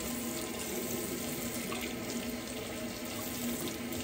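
A razor is rinsed under a running bathroom tap during a wet shave, with a steady, moderately close stream of water splashing into the sink and no talking.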